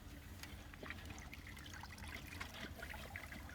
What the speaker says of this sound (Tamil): இப்போ சிக்கனை மஞ்சத்தூள் போட்டு நல்லா கழுவி எடுத்துக்கலாம்.